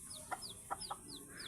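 A newly hatched pure Labuyo chick gives several thin, high peeping chirps in quick succession, faint and close against a soft background hiss.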